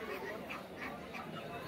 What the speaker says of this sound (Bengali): রাজহাঁস রয়েছে, রাজহাঁসগুলো কিন্তু দেখতে অনেকটাই সুন্দর